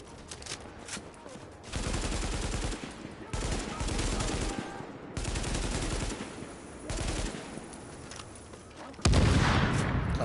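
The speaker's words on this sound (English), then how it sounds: "I don't know how you're throwing a grenade at me" Sustained bursts of gunfire and a heavy blast from a grenade exploding in the shooter game The Division. The rapid shots come in several loud clusters, and a sudden louder explosion lands near the end.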